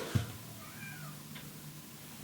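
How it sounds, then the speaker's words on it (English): A cat meows once, a short, drawn-out call at moderate distance over quiet background hum. "That's my cat meowing."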